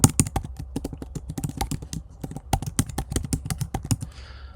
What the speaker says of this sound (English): so I'm going to type my email address.